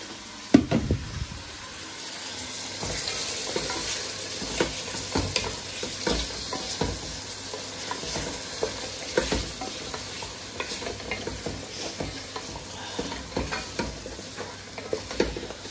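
Washed meat fries in a pan, giving a steady close sizzle broken by frequent scraping stirs and clatters that continue throughout.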